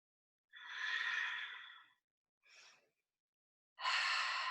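Deep, slow breaths drawn during a warrior two yoga pose. The first long breath is followed by a short faint one, then another strong breath, all close and clear with no talking.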